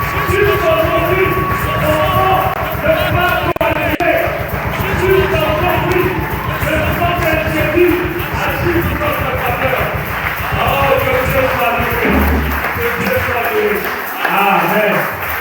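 A church congregation loudly cheering and acclaiming God, a dense mass of shouting and whooping voices with rhythmic clapping or stamping, continuous and close throughout.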